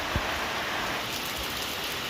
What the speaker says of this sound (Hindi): बारिश की रफ्तार देखो आप, कितनी ज़्यादा बढ़ चुकी है भाई।